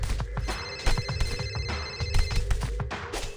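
A phone rings in the TMNT: Mutants Unleashed video game, a steady electronic ringtone pulsing in repeated bursts over a busy game background.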